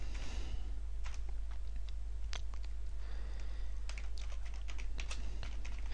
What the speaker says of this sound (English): All you need to type in is keyword tool into Google.